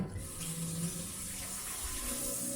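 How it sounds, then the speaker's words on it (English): Water runs steadily from a TapMaster hands-free faucet valve switched on by a kick at the sink, a continuous close splashing flow with no talk. "So the water turns on when I kick it."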